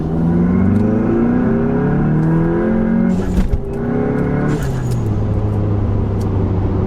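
A car with a Unitronic Stage 2 tune accelerates hard from second gear, engine revving and climbing in pitch through the gears, loud and close, with a brief shift break midway before pulling strongly again.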